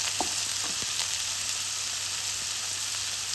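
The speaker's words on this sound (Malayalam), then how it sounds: "ഉള്ളി ഇട്ട് കൊടുത്ത് നല്ലോണം വഴറ്റി കൊടുക്കാം" Onions and a green chilli sautéing in a pan for chicken rolls give a steady, even frying sizzle, close and continuous, with a few faint stirring clicks and no talk.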